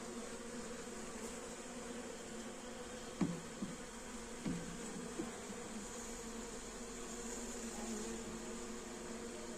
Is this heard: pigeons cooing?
no